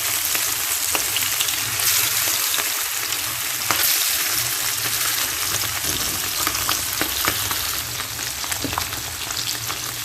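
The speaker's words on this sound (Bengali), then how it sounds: "হালকা করে মাছটাকে ভেজে নেব।" Poli fish fry lightly in hot oil in a pan, giving a steady close sizzle with crackling spits and occasional stirring scrapes, with no voices.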